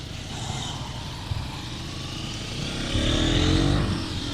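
A 2022 KTM 200 Duke motorcycle engine drones steadily while riding, mixed with wind noise, then swells louder and rougher for the last second or so as the rider speeds up.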